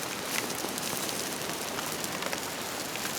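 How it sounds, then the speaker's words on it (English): Steady rain pattering on surfaces, a dense hiss of drops close by, constant throughout with no voices. "as you can probably tell by now, it's raining"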